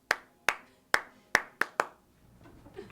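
Six sharp hand claps in an uneven rhythm, close and clear, followed by a quiet stretch with faint background rustle.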